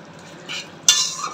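Mutton curry with salt stirred in a pan: a soft scrape, then a louder, sharper scraping stroke right after, brief and close, with no speech.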